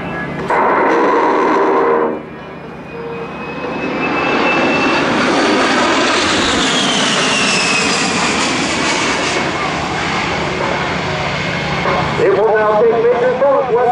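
An A-10 Thunderbolt II jet performs a demonstration flight at an airshow, its loud engine roar swelling and sustained across the pass, with a narrator's voice running over the noise.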